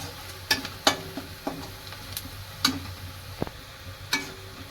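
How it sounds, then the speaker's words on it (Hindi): A spoon scrapes and knocks through spices frying for a jackfruit seed curry, a few sharp clatters in an uneven rhythm over a low, steady sizzle close by. "मसालों को इसमें अच्छे से मिला लेना है ताकि मसाले भी इसी के साथ पक जाएं"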